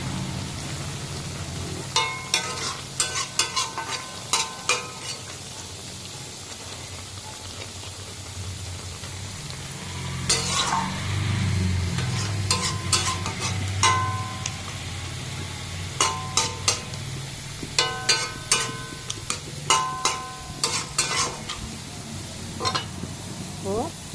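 Fish chorchori made with kachki fish stir-frying in a pan, a low steady sizzle broken by bursts of sharp scraping and clattering as it is stirred, with someone talking over parts of it.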